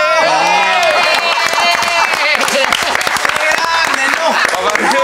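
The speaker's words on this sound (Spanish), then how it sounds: "Un aplauso para Papá Noel, por favor, todos nosotros." A crowd applauds and cheers for Santa Claus at a Christmas show, dense loud clapping with whoops over a few seconds, with voices mixed in.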